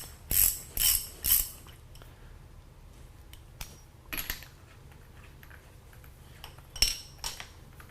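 A socket wrench ratcheting off a nut, a few quick clicking bursts near the start followed by sparse metallic clicks and taps, close and fairly quiet with no talk.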